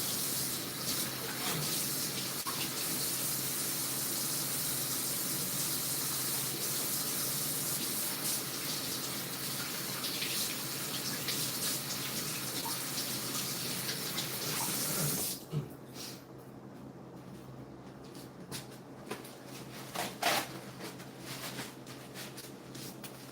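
Kitchen tap water rinses a pan in the sink, a loud steady gush running for about fifteen seconds before it cuts off, followed by quieter clattering and dripping sounds.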